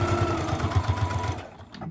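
A sewing machine back-stitches along a zipper with a fast rhythmic mechanical chatter, close and loud, then stops abruptly near the end.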